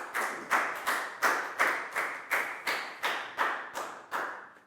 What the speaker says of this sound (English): Big round of applause for Lackow,